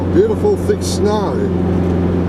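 A 4WD on heavy off-road tyres climbs a snowy hill in third gear low range, its engine a steady low drone throughout with people talking over it.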